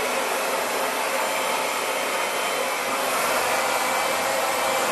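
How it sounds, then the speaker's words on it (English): A handheld hair dryer roars steadily while blow drying above-shoulder hair, a constant loud broadband airflow hiss without pauses or speech. "as soon as I turn my dryer on"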